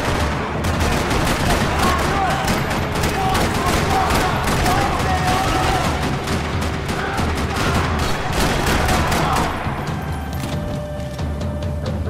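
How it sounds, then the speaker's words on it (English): Sustained gunfire in a parking lot during a Max Payne 3 firefight: dense, continuous bursts and rapid shots crackle loudly throughout, easing slightly near the end. "Another parking lot rattling with gunfire."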